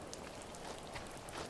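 Rain falling in the video game The First Tree, a steady dense hiss of drops on surfaces, even and soft with no voices.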